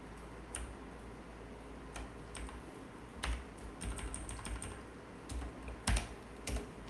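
Computer keyboard typing of a terminal find command, with irregular bursts of close clicking keystrokes and short pauses, alone in a quiet room with no voices.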